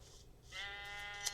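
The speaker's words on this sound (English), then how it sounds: "Naked sheep, naked sheep. Naked sheep, naked sheep. Bah yourself." A single Minecraft sheep bleats once in the game, a short nasal wavering cry, fairly faint and alone.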